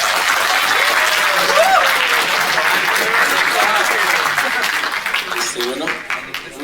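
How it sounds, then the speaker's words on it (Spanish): Loud, dense applause from a conference audience welcoming a speaker to a paper session, sustained for several seconds with faint voices underneath before it thins into scattered claps. "Lo recibimos con un fuerte aplauso"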